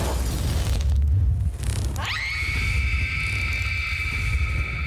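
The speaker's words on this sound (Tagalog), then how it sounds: "sumabog ang buong bahay." A whole house blows up in a loud, close explosion sound effect: a heavy low rumble and crash followed by a sharp burst with a long ringing, metallic tail, with no talk.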